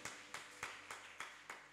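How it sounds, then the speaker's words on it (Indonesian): Faint, distant applause for Siepta during a church service, heard as about six separate claps in an even rhythm, with no voices. "Beri tepuk tangan dulu buat Siepta"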